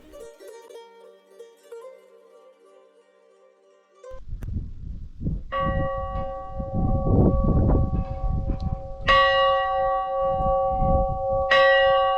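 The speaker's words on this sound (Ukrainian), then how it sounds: "Під необороковим куполом висить дзвін, в який можна бемкнути." A metal bell hangs under the dome of a wooden observation tower and is struck twice, each strike ringing out with long sustained tones over rustling, handling noise and wind.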